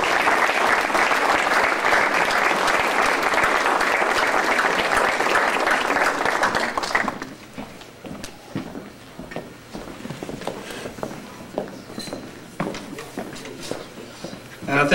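Loud, dense applause greets a guest speaker at a wedding and fills the first seven seconds, then stops abruptly, leaving scattered claps, footsteps and low room murmur.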